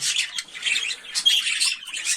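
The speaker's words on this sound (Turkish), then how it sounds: "Grey Sultan papağanım mevcut" Grey Sultan parrot in a breeding cage gives a run of harsh, close squawks and bursts of chatter, coming in uneven clusters with no talk over them.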